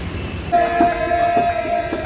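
A Mumbai local train rolls along with a steady rumble and rattle, and a loud horn sounds a sustained tonal blast close by for over a second; a devotional singing group is aboard the carriage.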